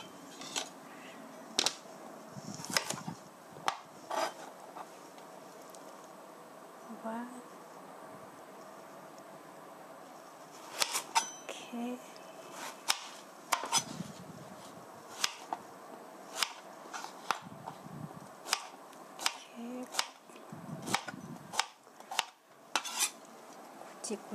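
A knife strikes a cutting board in a steady run of sharp, close chops, slicing zucchini into thick chunks in a home kitchen, with brief pauses between bursts and no talking.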